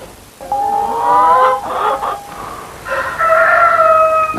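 A rooster crows loudly and close by before dawn, one long drawn-out cock-a-doodle-doo with a second rising call over quiet background.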